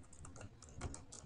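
Quick, soft clicking of keys on a computer keyboard, a short burst of rapid keystrokes recorded close up.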